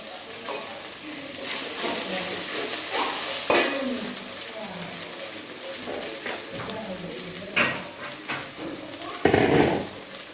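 Ivy gourd thoran with grated coconut stir-fries in a pan, with a steady sizzle broken by spatula scrapes and several louder clangs against the pan, and a voice heard at times.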